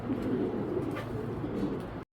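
A large female racer pigeon and others nearby give low rolling coos, close and moderately loud, with no voices before the sound cuts off at the end.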